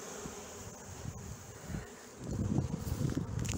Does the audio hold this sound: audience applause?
no